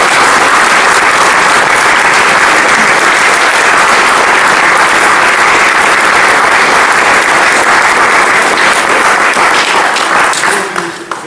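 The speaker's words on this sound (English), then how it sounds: "I think perhaps we could just show them another round of applause" Sustained applause from an audience after a film screening and Q&A, steady and loud for about ten seconds before tapering off at the end.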